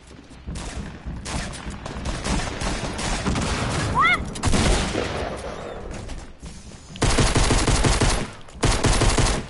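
Rapid gunfire bursts from a shooter video game, loud dense volleys that stop and restart in separate clusters, with a brief rising electronic tone in the middle.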